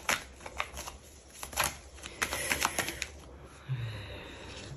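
Tarot cards being shuffled and laid out on a table, soft papery riffles and light slaps in uneven bursts, close and fairly quiet.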